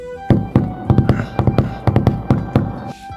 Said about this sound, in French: Toc toc, tu reconnais ce son ?